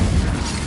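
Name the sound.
Confringo fire spell explosion, Hogwarts Legacy video game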